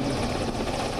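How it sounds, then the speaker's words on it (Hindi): Russian Air Force military helicopter flying over a city in Ukraine, its steady loud rotor roar filling the short stretch without a break. "रूसी एयरफोर्स के हेलीकॉप्टर बम लेकर मंडरा रहे हैं"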